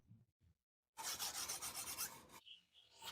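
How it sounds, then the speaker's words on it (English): Boxwood comb teeth being finished with a horsetail-coated shaving rod: a single close, loud rasping stroke lasting over a second, after a couple of faint soft scrapes in an otherwise quiet space. "His shaving rod has been swapped for one coated in horsetail, and he has begun the finishing."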